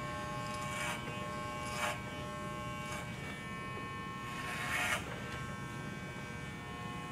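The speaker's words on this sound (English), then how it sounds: "You start with your blade closed on the clipper with the guard, bringing it up to the temporal ridge." Electric hair clipper with a guard fitted, cutting hair during a men's taper cut: a steady close buzzing hum with brief louder swells as the blade meets the hair, no voices.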